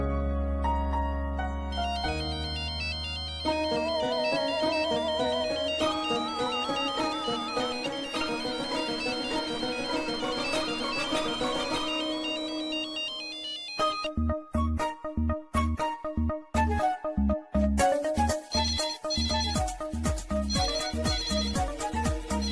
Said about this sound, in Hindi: जाके देखो किसका फोन है।